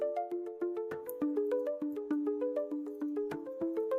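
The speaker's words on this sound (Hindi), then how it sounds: "तभी फोन की रिंग ने उसे चौंका दिया।" A phone ringtone plays a bright, repeating melodic pattern of quick plucked notes, steady and alone for several seconds.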